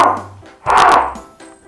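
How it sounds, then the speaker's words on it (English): A homemade screeching cup, a string pulled through a cup that amplifies its vibration, gives short, close, harsh squawks in a few uneven bursts. "the string is vibrating and the sound is being amplified by the cup"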